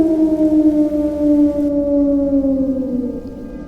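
A wolf howls in one long, loud, steady cry that slowly falls in pitch and fades slightly at the end, with no other sounds around it.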